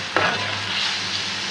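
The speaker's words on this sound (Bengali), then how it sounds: "আমি রসুন দিচ্ছি, লাল লাল করবো।" Garlic dropped into hot oil in a pan with dried fish, a sharp burst of frying followed by a loud, steady sizzle that carries on close by without talk.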